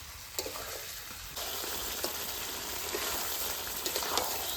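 Chicken kosha sautéing in a pan crackles and sizzles steadily, close and moderately loud, with scattered stirring clicks and a brief louder scrape, no one speaking.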